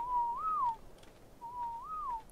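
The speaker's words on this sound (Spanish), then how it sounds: "Pero sois vosotros los que estáis silbando, ¿no?" Whistled tune in an ARK hide-and-seek game in a village, heard as two short clear whistled phrases, each a level note rising and falling back, separated by a brief pause over quiet background.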